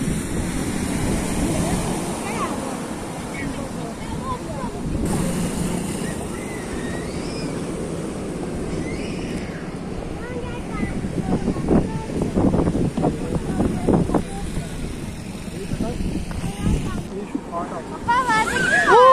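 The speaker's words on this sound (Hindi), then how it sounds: "इधर से पानी आ रहा है, पानी की आवाज़ है नीचे से, बहुत ज्यादा लहरें ऊपर तक आ रही हैं।" Ocean waves wash and crash against the shore in Spain, with a steady surging roar and gusty wind buffeting the microphone, while people talk nearby.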